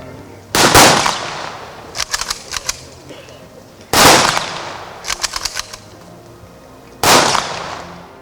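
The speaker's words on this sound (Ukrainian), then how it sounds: "Там, за традицією, пролунав і останній військовий салют." Three loud rifle volleys fired in unison at steady intervals at a military funeral in Kryvyi Rih, Ukraine, each followed by a quick series of sharp metallic clicks as the rifles are worked.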